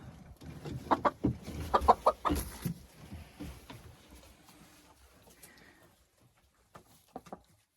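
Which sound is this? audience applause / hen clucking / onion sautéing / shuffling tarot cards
hen clucking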